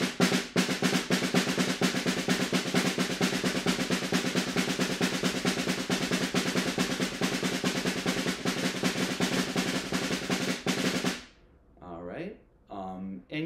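Drumsticks struck fast in alternating right-left strokes, a dense, even stream of sharp clicks that runs steadily for about eleven seconds, then stops and a person talks briefly.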